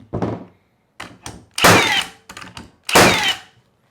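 Milwaukee M18 Fuel cordless framing nailer firing in single fire mode, delivering four or five separate sharp thunks into wood with short pauses between shots, each crack loud and close.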